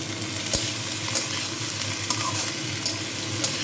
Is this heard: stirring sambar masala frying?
yes